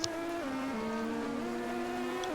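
A Formula 1 race car engine drones steadily at Monaco in a racing video game, its pitch stepping down and climbing back through gear changes, loud and close with no talk.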